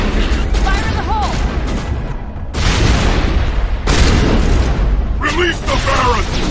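Grenade blasts in a modded video game: several loud booming explosions spread across the clip, each followed by rumbling noise, with shouting voices in between.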